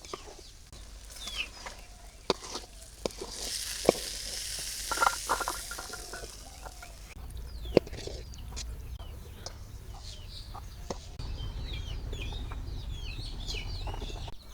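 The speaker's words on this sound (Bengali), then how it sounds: "আমি পেঁয়াজগুলো ভাজছি নিই" Onions hiss and sizzle in hot oil with scattered pops and clatters, while birds chirp faintly in the background.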